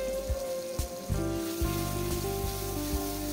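Chopped tomatoes dropped into hot oil for a chicken curry give a close, crackling sizzle with a few sharp spits and pops, heard alone over a steady background hum.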